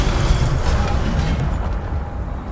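Incendio fire spell cast in the Hogwarts Legacy video game, a sustained loud rumbling burst of flame and impact that holds steady for a couple of seconds with no talking.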